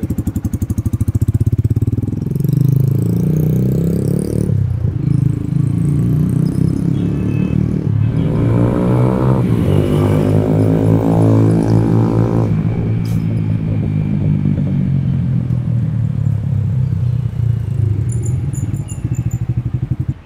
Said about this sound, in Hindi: लोवर्ड बाइक को मैं चला के देखता हूँ